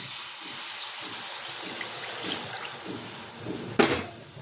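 Water poured into a hot kadai. A close, bright hiss and gush of steam runs steadily, ending with a sharp splash burst near the end.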